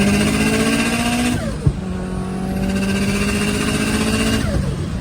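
Subaru WRX STI (GD) tuned to around 700 wheel horsepower, revving hard on a dyno: a loud, sustained engine roar with rising and falling pitch sweeps and a brief sharp pop midway, no talk.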